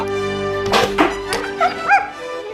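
Dogs give several short yelps and whimpering barks, close and fairly loud, over a steady humming tonal background.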